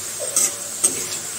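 Potatoes frying in a pan for a rainy-day vegetarian khichuri meal, a steady close hiss of oil with two short louder stirring scrapes.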